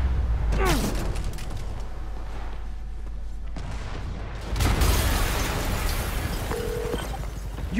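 In the Spider-Man Remastered video game, deep booming explosions burst out, first near the start and again midway, with rumbling aftermath and game effects between them.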